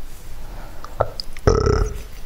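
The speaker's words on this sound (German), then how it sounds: "Entschuldigung, das war ein Rülpser." One loud, close belch from a man recording a German podcast: a short click at first, then a deep, throaty croak held for about half a second, with no speech around it.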